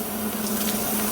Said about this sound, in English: you want to take your Louisiana hot sauce again, and you want to quench that weld